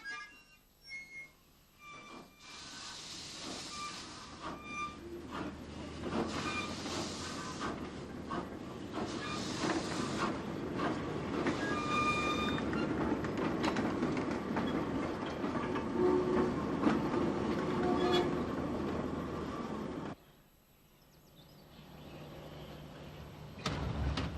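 Narrow gauge railway wagons being shunted at Belturbet in 1950s Ireland, giving a steady rolling rumble and hiss with scattered metallic clanks and squeals, close and continuous before dropping away abruptly near the end.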